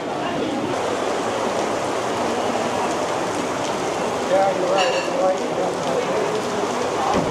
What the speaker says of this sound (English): The rain is still going